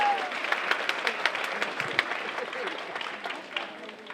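A school assembly crowd claps and cheers for a fifth-grade girl at an MLK Jr. event, with sharp individual claps standing out over a rolling applause that tapers slightly toward the end.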